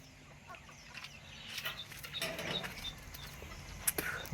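Free-range farm chickens cluck softly, scattered short calls rising above a faint outdoor background, with a couple of brief sharper sounds near the end.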